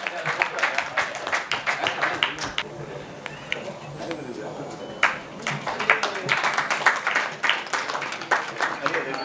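Applause from a small crowd at a Rotary Club meeting, greeting a birthday: brisk, scattered hand claps that rise and fall throughout, with voices murmuring beneath them.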